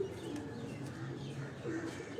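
Soft, low pigeon coos repeat steadily through the whole stretch, layered over a constant background murmur with no clear voices.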